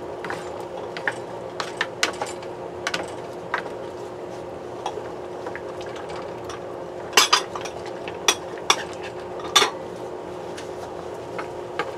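Egg caldereta being stirred in a cooking pot, with sparse light metallic clinks and scrapes of a utensil over a steady low background hum.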